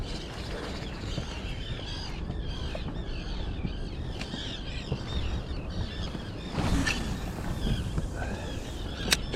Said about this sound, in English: We're just fishing, just so we don't disturb the seagulls and the sand eel.